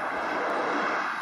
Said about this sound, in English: Now the plane landed here.